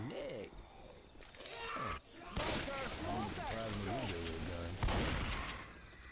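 Two sharp, booming shotgun blasts a few seconds apart ring out in Left 4 Dead 2 game audio, with voices talking over the action.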